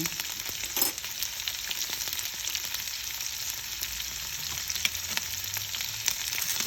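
Tempering seeds crackling in hot oil for a carrot stir-fry, a continuous close sizzle with scattered small pops throughout and no talking.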